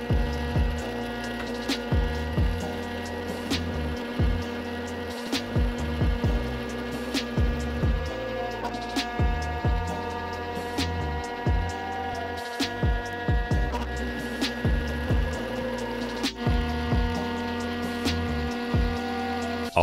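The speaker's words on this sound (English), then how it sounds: "I pressed the set zero button and the facing button again, and it started machining." A 3D-printed CNC machine facing the top of a workpiece, a steady motor whine with layered tones and periodic shifts in pitch as the cutter moves back and forth, loud and close.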